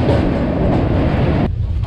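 Gatimaan Express, India's fastest train, rumbles loudly along the rails from inside a carriage, a dense steady roar that cuts off sharply near the end.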